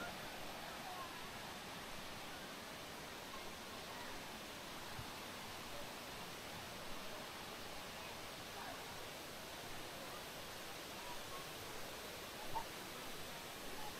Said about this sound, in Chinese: 瀑布越来越近了